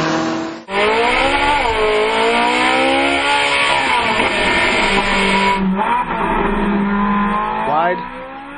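A 2011 Ferrari 458 Italia supercar drives hard, its loud engine rising and falling in pitch through revs and gear changes, with tire squeal and a voice talking over it.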